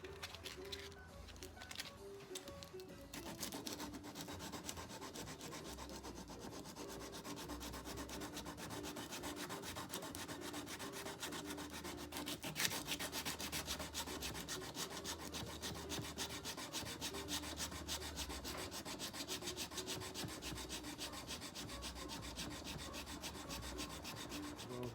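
A file rasps back and forth on the wooden neck of a Framus archtop guitar during a neck reset, steady repeated scraping strokes heard close and alone.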